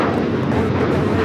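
An Alaska Airlines Boeing 737-900ER taking off at LAX, a loud, broad jet-engine roar filling the brief moment, heavy low rumble with no break.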